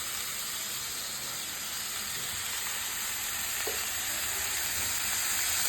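Cabbage fries in a pan with curry leaves and salt, giving a steady, loud, continuous sizzle with hissing steam and no break throughout.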